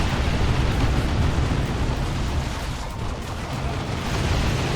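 Rocket launcher fire and explosions in the Dawn of War 2 real-time strategy game, heard as a continuous dense rumbling roar of blasts blending together at moderate loudness, with no talk over it.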